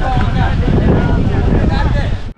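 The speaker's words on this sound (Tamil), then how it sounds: "பேருக்கு ஏற்ற மாதிரி காற்று சூப்பராக அடிச்சுக்கிட்டு இருக்கு." Strong wind gusts across an open hilltop called Kathadi Medu on a trekking route toward Sathuragiri, a steady loud roar buffeting the microphone throughout before cutting off at the end.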